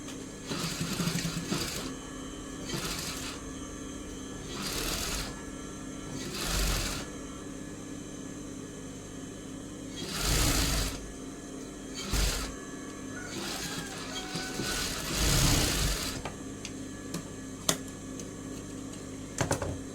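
Sewing machine stitching piping onto a blouse, a steady close mechanical whir and rattle with brief pauses and restarts, no talk over it.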